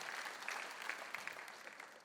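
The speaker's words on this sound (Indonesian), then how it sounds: "Tepuk tangan dong untuk Tuhan kita" Congregation applauding during a church service, a brief steady patter of many hands at moderate distance, with no voices over it.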